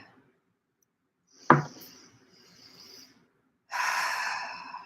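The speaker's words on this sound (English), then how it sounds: "take a big, beautiful, deep breath in and exhale it out" A deep breath is drawn in with a sharp, sudden intake, followed after a pause by a long, breathy exhale, close and clear in an otherwise quiet space during a chakra meditation.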